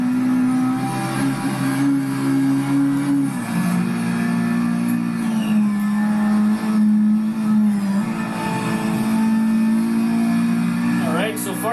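A Toyota AE86 Sprinter Trueno engine in Project Cars 3 on PS5 drones steadily at a held pitch, dipping and rising as the car shifts and accelerates, with a person talking over the engine note.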